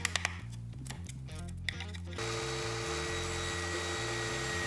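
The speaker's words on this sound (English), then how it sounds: "using a 40mm bit, I drill a few holes that will help carving out the material" A column drill fitted with a 40mm bit bores holes in a workpiece for a shoulder rig, first in short irregular bursts, then as a steady, loud mechanical whine with a low rumbling drone running without a break.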